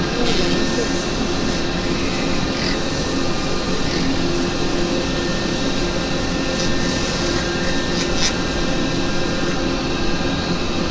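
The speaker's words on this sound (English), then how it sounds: "A bit of 180 grit, that's all it is. Nice fast speed." Turned wooden wig stand being sanded with 180 grit sandpaper while spinning fast on a woodturning lathe, a loud, steady broadband rushing hiss that runs unbroken from start to finish.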